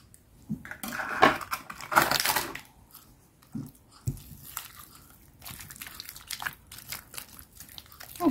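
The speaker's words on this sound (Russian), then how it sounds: "Разбиваем четвертое яйцо." An egg is cracked and stirred into eclair choux dough made with water and vegetable oil, giving a few sharp crunchy cracks early on, then quieter scraping, clinking and wet mixing sounds close by.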